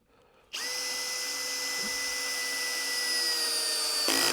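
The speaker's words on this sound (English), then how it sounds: "you could totally just go in with your drill bit and some solid pressure" A power drill bores into an HPL panel while a two-leg Apex desk is being installed, starting abruptly and running as a loud, steady whine for about three and a half seconds before stopping, with no talk over it.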